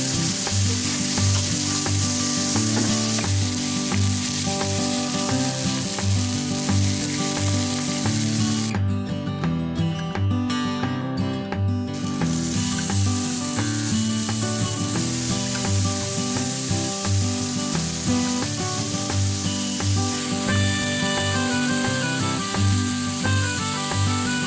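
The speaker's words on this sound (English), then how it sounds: "We're gonna grill the onions out here" Onions sizzling on a backyard barbecue grill, a loud, constant crackle with music playing over it and no talking.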